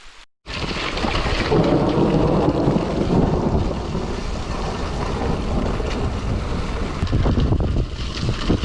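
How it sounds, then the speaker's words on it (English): Heavy rain and rolling thunder from a storm with lightning directly overhead, heard outdoors on a bikepacking trip; a loud, continuous roar with wind buffeting the microphone and no speech. "I don't want to risk it with this lightning is like right overhead."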